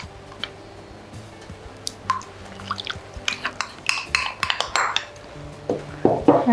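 Oil, maple syrup and vanilla mixture goes into a bowl of flour for gluten-free hazelnut cookies, heard as faint liquid pouring followed by a cluster of close clinks and taps of a utensil against the bowl.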